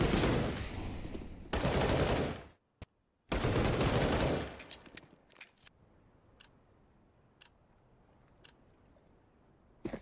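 Pistol gunfire in a Counter-Strike match, two dense loud bursts of shooting broken by a brief gap, then a few scattered sharp single shots fading into quiet.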